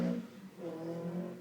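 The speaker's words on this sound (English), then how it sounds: "Rather loud car." A loud car drives past, a steady rising-and-falling engine rumble that runs the whole moment with no voices over it.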